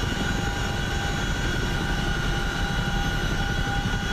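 A Chinook helicopter in the flight game DCS World drones with a steady, loud rotor and engine roar that holds evenly throughout, with no voices.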